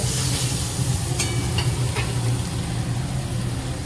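Sattu, roasted gram flour, frying in a pan in a home kitchen, giving a steady close hiss and sizzle with a low continuous hum underneath and a few faint stirring clicks, no speech.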